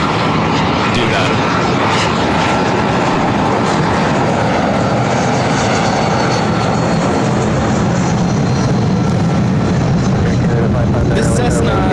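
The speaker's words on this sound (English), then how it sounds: "This Cessna citation latitude coming from San Jose, California, NetJets 542." A Cessna Citation Latitude business jet at LAX, its loud, steady engine roar sustained and close the whole time.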